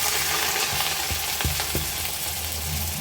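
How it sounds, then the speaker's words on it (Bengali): Rice and onions fry in soybean oil in a pot with a loud, continuous sizzle, broken by a few clanks and scrapes of stirring, with a low rumble underneath and nobody talking. "এখানে পরিমাণ মতো সয়াবিন তেল দিয়ে দিলাম চালটা ভাজা হওয়ার জন্য।"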